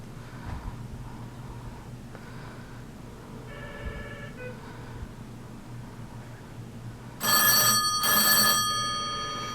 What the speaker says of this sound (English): So let me go ahead and ring it.